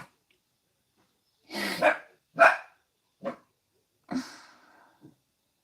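A person imitates a dog, giving four short barking yelps with pauses between them, followed by a tiny trailing yip, close to the listener with no other sounds.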